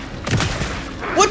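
A shotgun fires in the video game Alan Wake 2, a single sharp blast near the start, followed by a brief vocal sound.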